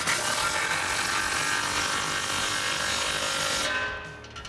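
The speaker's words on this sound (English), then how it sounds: "So what we can do now is tighten up this clamp in the back here with the same 15mm deep socket." A ratchet with a 15mm deep socket tightens an exhaust clamp on a Jeep Wrangler JL Flowmaster axle-back exhaust, producing a steady, close rasping clicking that stops abruptly at the end.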